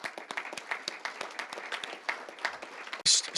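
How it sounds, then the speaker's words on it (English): Room of attendees at a Pancakes and Politics event claps for a legislative committee group; a lively run of individual claps, fairly close and crisp, with a brief louder burst at the end. "Round of applause to that group."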